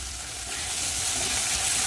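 Spices with chili and cumin powder fry in a pan, an even, close hiss of sizzling that holds steady and rises slightly, with no voices.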